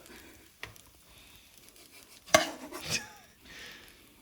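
Potatoes and rice being served onto plates in a home kitchen, with a few sharp clinks of a spoon on dishware, soft scraping and a brief rustle, sparse and fairly close with quiet gaps between.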